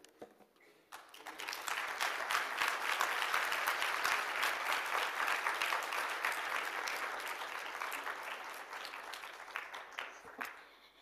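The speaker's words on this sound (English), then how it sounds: "one further round of applause for Professor" Conference audience at a health conference applauding, a dense round of clapping that swells in after a quiet start, holds steady, then thins into scattered claps before fading out.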